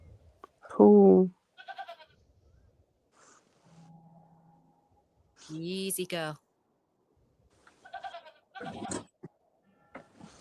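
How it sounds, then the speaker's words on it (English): A goat in the adventure game The Excavation of Hob's Barrow bleats in two loud, wavering calls separated by pauses, with a character's voice and scattered game sounds in between. "Oh, look at this. A goat."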